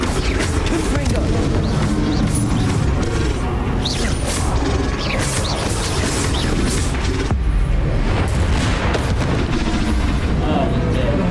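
A Confringo spell explosion in the Hogwarts Legacy video game: loud repeated blasts, booms and crashes in dense combat noise, with voices talking over the action.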